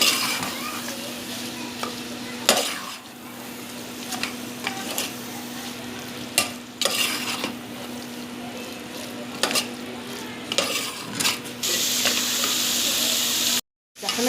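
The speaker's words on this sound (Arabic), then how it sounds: "هسه ابدي اقلب بيه." Tomato paste fries and sizzles in a pot for a green bean and lamb stew while a spoon stirs and scrapes it repeatedly, producing a steady loud sizzle with occasional knocks.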